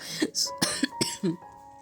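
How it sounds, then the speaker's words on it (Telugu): A woman coughs several times in quick, sharp bursts indoors, close and fairly loud, with short gaps between each hack and a throat-clearing quality. "సారీ, నాకు కొంచెం కాఫ్ వచ్చేసింది"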